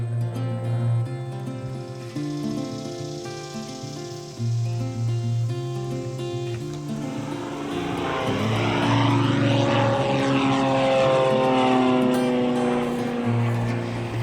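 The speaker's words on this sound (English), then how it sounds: "It's an airplane spraying." A crop-spraying propeller airplane drones steadily overhead, its engine swelling louder partway through as it passes close, continuous and alone.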